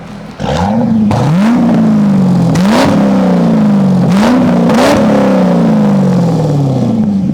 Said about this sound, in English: Matt, give me some revs real quick.